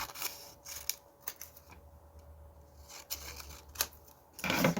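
Scissors cutting paper for a botanical journal card, quiet close snips and rustles in short irregular bursts, with a louder crinkle of handled paper at the end.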